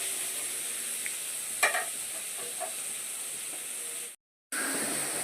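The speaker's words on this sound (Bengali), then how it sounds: "এখানে ক্যাপসিকামটা আর গাজরটাও দিয়ে দিয়েছি। এবার গ্যাসটা কমিয়ে একটু এটাকে ভাজা ভাজা করে নেব।" Capsicum and carrot fry in a pan over lowered gas, giving a steady soft sizzle with a few light stirring clicks and scrapes, close by, broken by a brief cut near the end.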